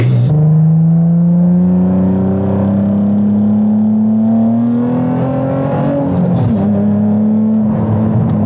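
A Nissan 350Z engine revs steadily and loudly, its pitch climbing smoothly through the rpm range as heard from inside the car, then dropping briefly before holding again.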